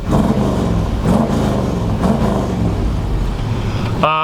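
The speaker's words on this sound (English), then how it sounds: "I'm going to rev the engine." A 1964 Chevrolet C10 pickup truck engine rumbles loudly nearby, revving up and down in repeated swells over a deep idle.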